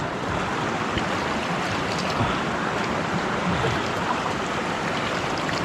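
River water swirls and splashes in a gold panning pan beside a provincial river, a steady close rushing wash that stays even throughout with no talking.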